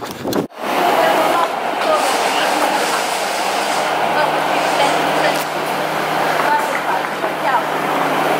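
A train rumbles loudly nearby with a steady roar, faint clatter and a low hum, sustained after a brief abrupt start.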